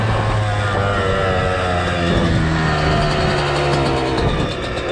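Motocross bike engine with a new top end running steadily and loud nearby, a continuous buzzing two-stroke-style drone with slight rises in revs.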